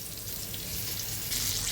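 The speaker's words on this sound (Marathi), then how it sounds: "आता मस्त आपले हे बागडे फ्राय होत आहेत" Steady sizzling and crackling of bagda and mushi fish frying in a pan, continuous and close, growing slightly brighter toward the end.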